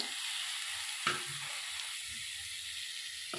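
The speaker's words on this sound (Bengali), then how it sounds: "বেগুনটা আমি হালকা করে ভেজে নেব" Cut eggplant frying lightly in oil with turmeric gives a brief, steady sizzle, broken by a couple of spatula knocks.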